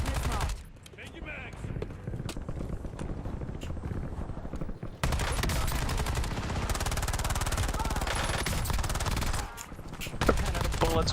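Rapid automatic gunfire and scattered single shots crack through a Call of Duty: Warzone DMZ firefight, dense and continuous bursts loud up close, with a player's voice talking over parts of it.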